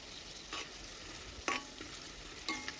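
Curry leaves hit a pan of frying egg rice with a soft steady sizzle, punctuated by a few brief louder crackles and stirring scrapes, close up with no voices.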